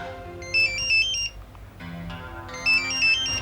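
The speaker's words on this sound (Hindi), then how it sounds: "मुझे पता है किसका फोन है, पकड़ो।" A mobile phone rings with a bright electronic melody, two bursts of repeated tones separated by a short pause, loud and close indoors.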